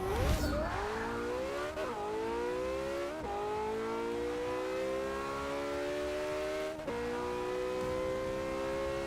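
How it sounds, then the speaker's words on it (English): A Porsche 918 accelerates hard down a quarter-mile drag strip in the Forza 6 racing game, the engine note climbing steadily and loudly through the gears, with brief drops at each upshift and no talking. "quarter mile in the Porsche 918"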